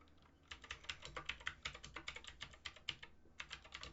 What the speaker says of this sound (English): Sorry, our keyboard's really loud.